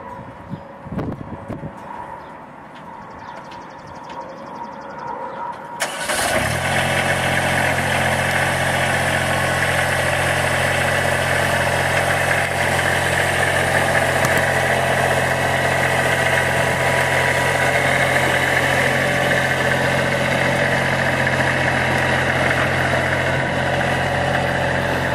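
Riding lawn mower engine starting up and running steadily as the machine is driven off a trailer fitted with a tailgate lift, a loud continuous droning rumble after a few seconds of quieter clatter.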